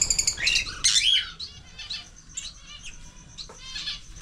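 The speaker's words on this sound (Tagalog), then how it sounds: "Lovebird." Caged lovebirds and parrots at a farm resort chirp and tweet in a noisy, overlapping chorus, loud bursts near the start easing into scattered calls.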